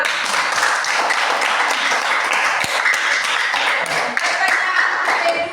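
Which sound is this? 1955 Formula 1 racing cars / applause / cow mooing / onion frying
applause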